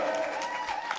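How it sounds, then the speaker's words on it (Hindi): Clapping from an audience at a school Republic Day program, a brief, fairly faint burst of applause with crowd murmur. "तो जोरदार तालियां"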